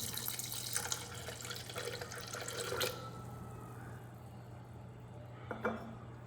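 Half a cup of milk is poured into a blender jar with soaked oats for a green smoothie, a steady close liquid splash that tapers off after a few seconds, over a low constant hum.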